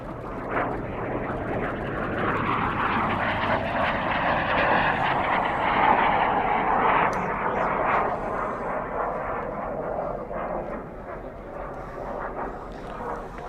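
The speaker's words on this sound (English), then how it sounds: "High-speed pass coming in." Airplane making a high-speed pass at an air show in Apple Valley, a steady loud roar that swells toward the middle and fades slowly, with excited spectators' voices faintly underneath.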